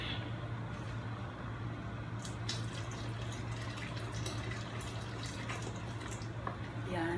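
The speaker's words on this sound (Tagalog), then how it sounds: "I think magdadagdag pa ako ng konting water." Water poured from a cup into a pot of dinuguan (Filipino pork blood stew) on the stove, a steady trickling and splashing over a constant low kitchen hum, with a few faint clinks toward the end.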